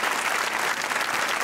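A studio audience at a Geo News talk show breaks into continuous, even applause, a thick wash of many hands clapping at once with no voices above it.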